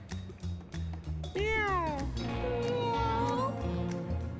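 A cat in the video game Mewgenics lets out a couple of loud, drawn-out meows, the second one rising and wavering, over a steady low backing track.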